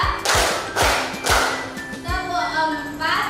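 A class claps in a counted clap routine, a few broad bursts of clapping in sequence with low thumps, followed by children's voices responding.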